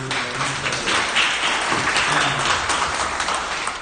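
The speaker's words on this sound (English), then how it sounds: "give yourselves a round of applause" Attendees at an early-morning community diversity breakfast applaud themselves. Dense, even clapping from a sizable crowd fills the whole stretch at steady loudness.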